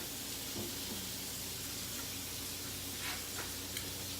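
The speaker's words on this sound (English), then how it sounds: "I am frying the fish, not the fish, but the shrimp. I'm sauteing them." Shrimp sautéing in a pan for shrimp and cheese grits, a steady soft hiss and sizzle running throughout at low level, with a few brief brighter spits of steam.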